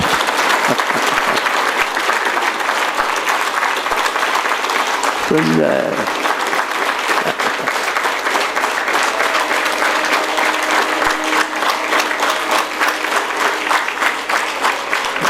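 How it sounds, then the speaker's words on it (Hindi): A crowd at a gathering with a spiritual leader keeps up sustained, loud applause throughout, a thick rattle of many hands, while a voice speaks briefly over it midway. "आप ऐसे ही तालियां बजाते रहो"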